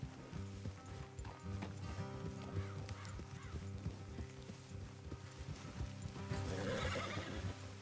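Horses gallop in the video game Red Dead Redemption 2, with steady rhythmic hoofbeats and a whinny under a low music and ambience bed, fairly close and continuous.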